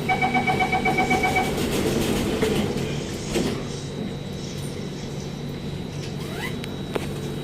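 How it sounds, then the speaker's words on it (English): An SMRT train in Singapore with its doors closing at Farrer Road station: a rapid series of loud warning chimes at the start, then a low mechanical rumble and door slide as the train prepares to depart. "Doors are closing."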